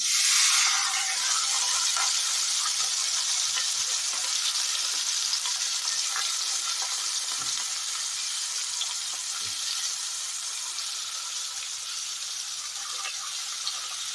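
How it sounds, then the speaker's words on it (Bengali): Sliced onions hit hot oil in a pan and fry with a loud, steady sizzling hiss that holds across the whole stretch, easing slightly toward the end, with no talking. "স্লাইস করে কেটে রাখা যে পেঁয়াজগুলো আছে সেগুলো আমি এখন তেলে দিয়ে দেবো"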